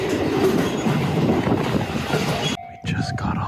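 A train runs on rails in Hokkaido, a loud steady rumble with rolling rail noise that suddenly drops away near the end, leaving a brief quieter moment with a faint tone.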